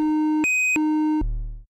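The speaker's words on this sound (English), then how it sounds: "let's just take a listen really quick to the sine wave out" A Brooks thru-zero VCO Eurorack synth module puts out a pure sine tone that steps from low to high and back to low in clean sustained segments, then ends in a short low rumble.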